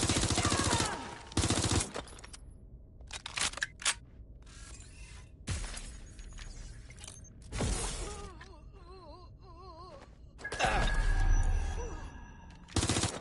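Sporadic gunfire and shattering impacts in the open-world game Watch Dogs Legion, arriving as loud irregular bursts separated by quieter stretches with faint mechanical noise and a warbling electronic tone.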